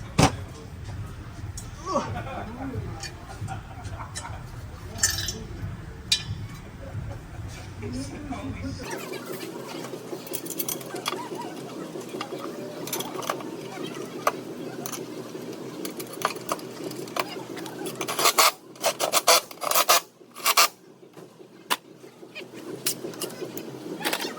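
Transmission cross member going into a 2019 Chevrolet Camaro 3.6L: clanks, metallic clicks and bolt rattles under the car, loud and close, with a person talking over much of the work.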